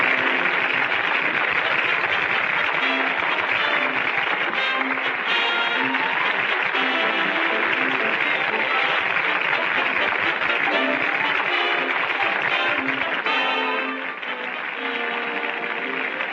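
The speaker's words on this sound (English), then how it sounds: "Listen to that applause" A theatre audience claps in sustained, dense applause, loud and even throughout, easing off slightly near the end.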